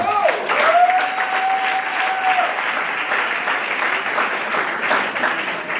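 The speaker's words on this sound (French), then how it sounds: "je voudrais que nous les félicitions par nos acclamations nourries et chaleureuses" An audience at an excellence awards ceremony gives warm, sustained applause for prize winners, a steady roar of clapping with a cheering voice rising above it near the start.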